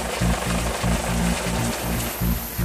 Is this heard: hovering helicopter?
yes